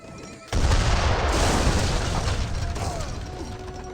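A burst of mortar fire booms in Age of Empires 3: Definitive Edition, a loud dense blast rolling into a sustained rumble of battle for several seconds amid game effects.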